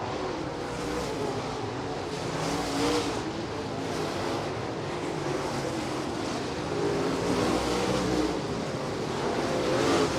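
Late model stock cars race around Thunderbird Raceway, their engines a continuous distant roar and drone that rises and falls as the pack circles the track, with no talk heard.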